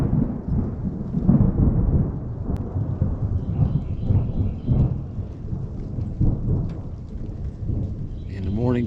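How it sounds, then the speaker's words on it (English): Thunder rumbles low and long through steady rain, with a deeper roll building near the end; the storm comes in on a morning at an RV stop during winter travel, and no one speaks. "the rain came in. A little bit of thunder"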